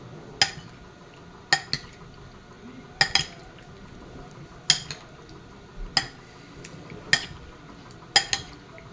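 A spoon stirs a kinilaw-style dish of onion, tomato, ginger, cucumber, chili and calamansi, clinking against the bowl about eight times in an irregular rhythm, each clink crisp and close with quiet mixing between.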